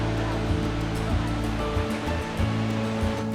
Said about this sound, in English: We successfully and accidentally found one of the 7 waterfalls.